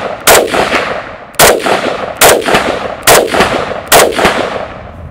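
Sig Sauer 556 rifle fired outdoors, five sharp loud shots at roughly one-second intervals, each followed by a short decaying echo, with no talking.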